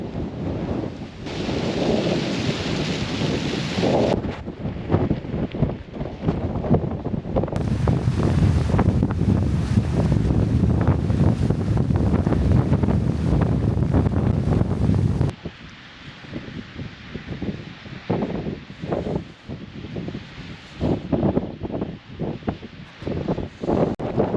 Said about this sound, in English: Wind's gusting up to, what's the gust today